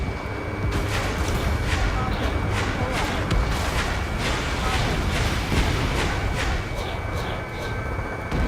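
Missile explosions in the Ace Combat 7 jet combat game come as a dense, continuous rumble with repeated bursting impacts under steady engine roar, while a voice talks over the action.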